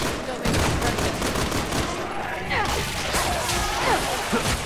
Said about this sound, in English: Shooting her right in the fucking cooch.